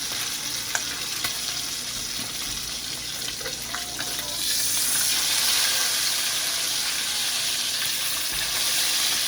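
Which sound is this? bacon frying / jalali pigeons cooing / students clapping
bacon frying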